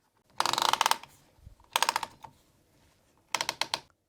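Ratcheting rollers tightening the canvas on a rug tufting frame, heard as three close bursts of rapid clicking, each a quick series of sharp ratchet ticks with short pauses between.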